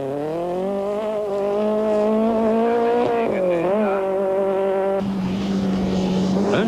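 Class C Volkswagen Golf rally car on a 1995 rally stage, a loud close engine howl with rising and dipping pitch through gear changes, ending in a rough surge with gravel noise.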